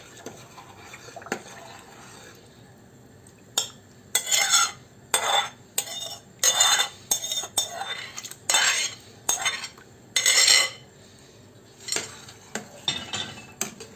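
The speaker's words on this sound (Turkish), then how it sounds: "kaynayıncaya kadar karıştıracağım" A spoon stirs yogurt soup with a tempered egg-and-yogurt base in a pot, making a run of close, rhythmic scraping and clinking strokes against the metal with brief pauses, and no voices.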